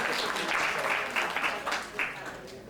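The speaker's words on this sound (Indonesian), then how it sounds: "Boleh tepuk tangan untuk MC kita hari ini?" Brief burst of audience clapping for the MC at a seminar on energy transition and green jobs, a few swells of hand claps with speech mixed in.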